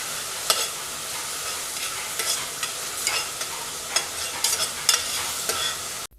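Basmati rice frying and being stirred in ghee in a pan, a soft continuous sizzle broken by repeated scraping stirs, close and fairly quiet.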